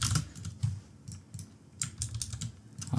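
Typing on a computer keyboard while composing a giveaway message for a Discord bot, with irregular bursts of clacking keystrokes and brief pauses, close and moderately loud, with no talking.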